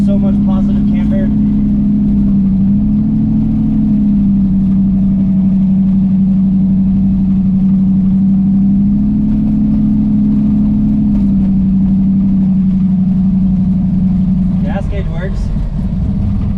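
A turbocharged Ford Fairmont drives along with a steady, loud, droning engine hum from inside the cabin, its pitch wavering slightly as the throttle shifts, with a few faint rattles near the end.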